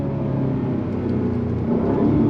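2024 Cadillac CT5-V Blackwing engine rumbling through smooth downshifts, a steady low droning note heard from inside at moderate volume, rising slightly toward the end.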